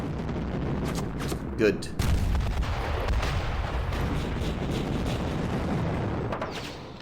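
Artillery and gunfire rumble continuously through a Panzer Campaigns Kiev '43 wargame battle against gun emplacements, a dense steady low barrage with one sharper burst, while someone talks briefly over it.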